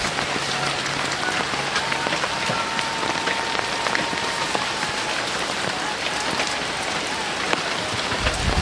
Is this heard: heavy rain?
yes